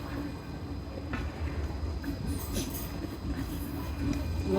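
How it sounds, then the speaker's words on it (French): A city tram passes by at sunrise, a steady low rumble of wheels on rails with faint squeals and clicks rising slightly toward the end, heard from the roadside with no talking. "Il y a le tram qui passe."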